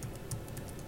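Fast, close keystrokes on a computer keyboard as a command is entered, a steady patter over a constant background hiss in a brief burst.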